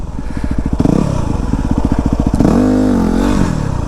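Yamaha WR250R motorcycle engine revs hard for a wheelie, a loud close rapid putter rising and falling with the throttle, then a sustained higher-pitched rev that wavers.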